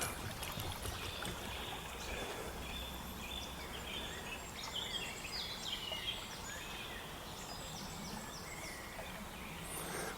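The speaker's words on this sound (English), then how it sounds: "We listen to some water to chill out" Steady flowing water rushes continuously throughout, a soft even wash with faint high chirps drifting in above it.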